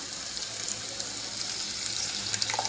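Water pours steadily into a bowl of lentils for dal, a continuous splashing hiss that gets a little louder and more bubbly toward the end.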